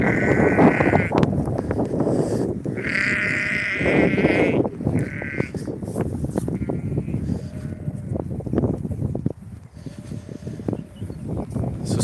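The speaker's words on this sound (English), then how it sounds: "Lots of sheep around here today." Several sheep bleat loudly and repeatedly at the ruins of a 12th-century priory at Kells, their drawn-out calls overlapping close by against a busy outdoor background.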